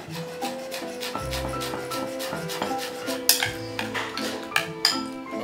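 Kitchen knife chopping fresh mint on a board, with a run of rapid rocking taps and a few sharper knocks, heard over a steady tonal music bed.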